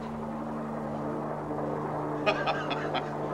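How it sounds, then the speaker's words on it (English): A helicopter in the sci-fi horror film The Giant Spider Invasion drones steadily overhead as a low, even rotor hum, with a few brief louder bursts near the end. "that chopper makes nearly as much noise as that preacher man"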